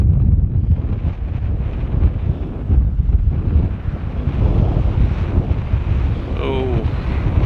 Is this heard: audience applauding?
no